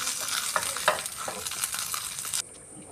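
Amudi fish frying on banana leaf in a pan gives a loud, dense sizzle with crackles and pops for about two and a half seconds, then drops off sharply to a softer hiss.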